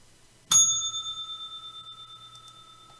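A single bright bell strike rings out near the start as the stock market opening bell, its clear tone sustaining and slowly fading over the following seconds with no talking.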